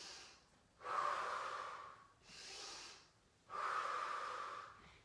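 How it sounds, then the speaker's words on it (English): Slow, deep breathing during a gentle seated strength workout, with three long airy inhales and exhales in a steady rhythm, close and fairly quiet, no talking. "Breathe in, breathe out."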